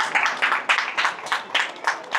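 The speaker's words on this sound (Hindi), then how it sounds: "श्री दिवाकर पटेल जी, इनके लिए तालियों से खूब स्वागत किया जाए।" Audience clapping at a residential association event, rhythmic unison claps in a steady pulse of roughly three beats per second, close and moderately loud, with no speech over it.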